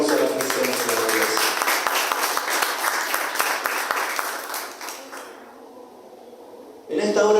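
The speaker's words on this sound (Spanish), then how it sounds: "Denle un fuerte aplauso a la presencia de Dios" A church congregation breaks into strong, dense applause that carries steadily for about five seconds, then thins and fades while voices continue.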